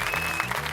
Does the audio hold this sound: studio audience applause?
yes